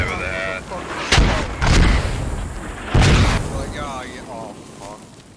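Mortar rounds landing in the military shooter Squad, several heavy booming impacts spaced a second or two apart, loud and close, over battlefield rumble with radio-style voices talking.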